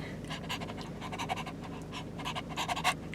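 A man imitates a small dog panting with his voice, giving quick rhythmic breathy huffs, close and fairly soft, repeating steadily throughout.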